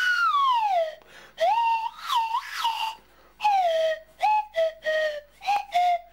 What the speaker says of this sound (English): by blowing down the end and moving the length, I've got a swanny whistle